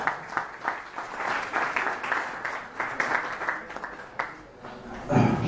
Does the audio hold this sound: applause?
yes